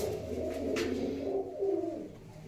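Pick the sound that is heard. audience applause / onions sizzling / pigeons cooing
pigeons cooing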